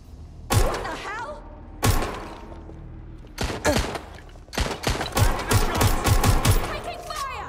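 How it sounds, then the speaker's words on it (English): Gunfire in the Watch Dogs: Legion video game: sharp loud single shots at first, spaced apart, then a rapid burst of repeated shots near the end, close and punchy. "They're shooting!"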